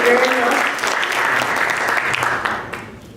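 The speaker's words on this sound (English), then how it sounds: "Let's give Bob and Provost another round of applause." Loud, sustained applause from an audience at a leadership lecture event fills the space, gradually thinning out near the end.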